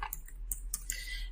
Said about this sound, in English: if you hear me typing, it is because I am bringing up the EFT tapping notes here